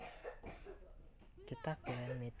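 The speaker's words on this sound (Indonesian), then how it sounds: "kalau ada suara batuk, mohon maaf, itu suara keluargaku kan" Someone in the household coughs in the background, a few muffled, faint coughs behind a young person speaking Indonesian over a mobile game.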